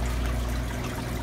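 The water pump of a leaking ice machine runs, with water flowing and trickling in a steady, loud, unbroken wash and no other sounds on top.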